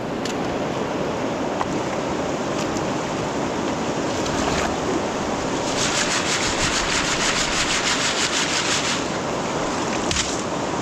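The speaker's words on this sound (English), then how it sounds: "Let's go sift it out into the pan." Beach gravel shaken through a quarter-inch classifier into a pan gives a continuous gritty rattle and hiss, loud and close, with a sharper burst of sifting midway, over a steady background of surf.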